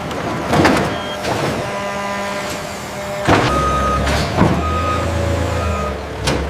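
A loaded truck backing up at a farm produce depot, its reversing beeps repeating over a steady engine rumble and hiss, with a few clanks and a brief air release.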